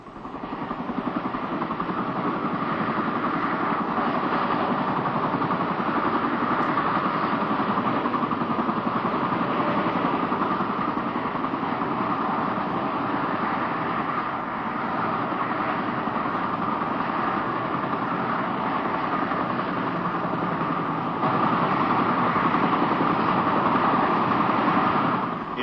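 Twin turbine engines of a CH-47 Chinook Army transport helicopter run in a steady, loud, unbroken drone with a dense rumble and whine that holds for the whole stretch, with no voices.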